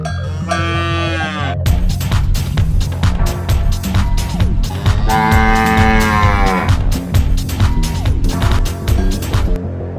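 Cattle at a commercial cow farm in Keraniganj, kept for sale before Qurbani Eid, moo loudly and repeatedly, long drawn-out calls from nearby over constant clanking and shuffling.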